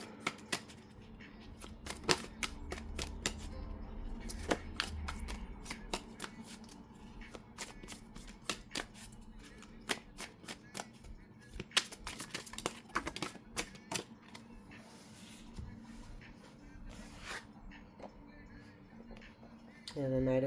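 Tarot cards shuffled by hand in a series of crisp riffling bursts and rapid flicks, repeated through the whole passage, close and fairly quiet over a low background hum.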